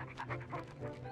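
Pac-Dog, a cartoon dog in the Pac-Man World video game cutscene, pants in quick rhythmic breaths with small whimpering tones over a steady low hum of game music, close and moderately loud throughout.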